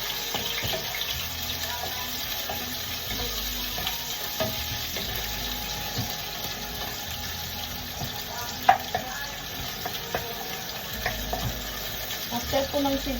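Onion added to browned garlic and sautéed in a pan for ampalaya with egg, a steady close sizzle under scraping stir strokes and a few sharp utensil clicks, no talking.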